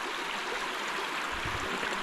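River water flowing over rocks near Stevensons Falls, a steady broadband rush filling the whole clip with no talk.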